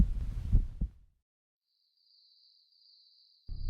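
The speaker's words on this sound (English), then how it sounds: "Your heartbeat suddenly becomes the loudest sound in the room" Heartbeat sound effect: a low, heavy double thump near the start, then near silence with a thin, faint high whine, before another deep thud arrives at the very end.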